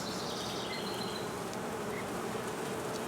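Honey bees buzzing at an open hive in an apiary, a dense continuous hum of many insects close by, steady throughout with no talking.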